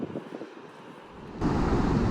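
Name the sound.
strong wind at the beach while surf fishing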